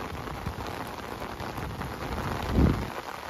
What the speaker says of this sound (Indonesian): Tiba-tiba diguyur hujan sedulur.